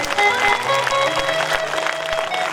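An audience claps steadily throughout a Ram Katha religious discourse in Deoria, a dense, sustained wash of applause from a sizable crowd with faint sustained musical tones underneath.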